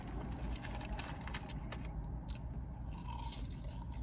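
Crunchy chewing of McDonald's fries and spicy sport peppers during a hot dog meal, a faint, steady stream of crisp bites and mouth noises heard up close.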